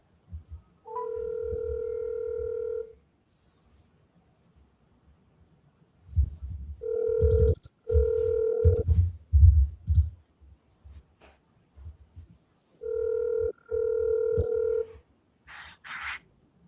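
Telephone dialing on an outbound sales call to a property seller: three bursts of steady ringback tone, each roughly two seconds long, separated by pauses, with clicking and low rumbling handling noise between them, all fairly loud and close.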